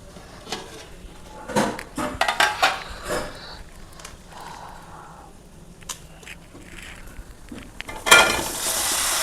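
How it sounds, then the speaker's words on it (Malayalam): Chunks of tapioca tipped into a pan for Kerala-style kappa biryani, giving a string of clattering knocks and scrapes in the first few seconds, quieter shuffling after, then a loud broad rush near the end. "ഇനി നമുക്ക് അതിലേക്ക് കപ്പ ഇട്ട് കൊടുക്കാം"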